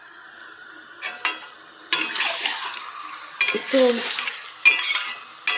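Chicken curry meat being sautéed and stirred in a hot pan: bursts of sizzling and spatula scraping come in several separate strokes over a low background hiss, with a brief spoken word.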